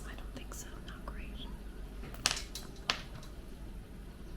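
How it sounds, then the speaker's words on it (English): A charm bracelet knocks against a tabletop twice in quick succession, two sharp metallic clacks standing out from a steady low background hiss and faint murmuring, close to the microphone. "It's actually my charm bracelet smacking on the table"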